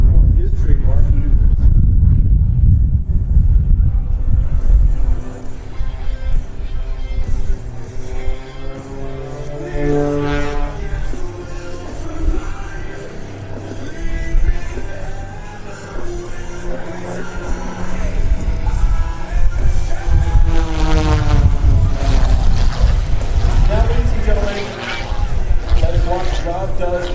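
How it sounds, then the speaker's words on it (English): Steady propeller engine drone of an MXS aerobatic aircraft performing at the 2015 Rhode Island airshow at Quonset, loud and continuous with rising and falling pitch sweeps as it maneuvers, while a commentator talks over it throughout. "the Window World MXS is the only aircraft capable of meeting the extreme demands Rob requires to perform his trademark maneuvers."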